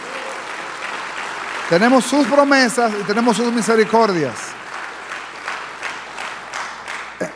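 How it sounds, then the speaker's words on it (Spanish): A church congregation applauds in a sustained wash of clapping while a preacher speaks in Spanish over it with strong reverb, and the applause fades out behind his voice. "¿Alguien le da un aplauso al Señor por eso?"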